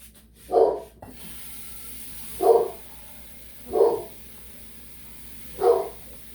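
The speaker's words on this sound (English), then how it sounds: "The UPS truck is out there, so my dogs just have a fit when the UPS truck comes." Dogs barking at a UPS delivery truck outside, four separate bursts spaced a couple of seconds apart, fairly distant and muffled indoors with no talking.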